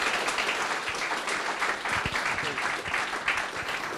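An audience gives a warm round of applause for entrepreneur panellists at a sustainable innovation launch event, a steady, full burst of many hands clapping that continues throughout, with some voices beneath.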